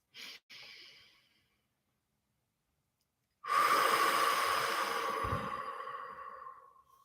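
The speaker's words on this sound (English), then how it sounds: "Let's take a breath." A slow, deep breath drawn during a guided meditation: a brief breath, a pause of silence, then a long, close, airy exhale that tapers off gradually.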